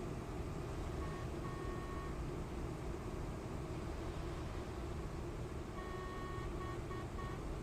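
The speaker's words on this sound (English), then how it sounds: "Now I can hear my horn." A coach horn sounds in the TruckersMP driving game, two steady honks a few seconds apart, the second held longer, sitting moderately under a constant engine rumble.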